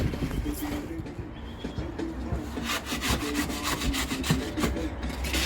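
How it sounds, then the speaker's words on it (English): A broom sweeps washed Sydney sand across pavers into the gaps in a narrow side yard, with rhythmic, close, scratchy strokes repeating quickly and a voice briefly audible. "Now I'm using the washed Sydney sand and broom to fill up the gaps between the pavers."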